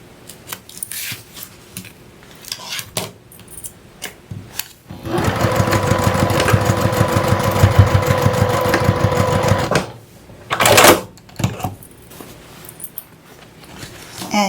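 A sewing machine runs steadily for about five seconds, stitching the seam of a kiss lock purse. Quieter handling noises and fabric rustling come before and after the run, with a brief louder burst near the end.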